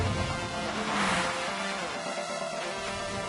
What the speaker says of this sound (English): It holds the engine at a constant revs when you accelerate, which makes it an unpleasant drone.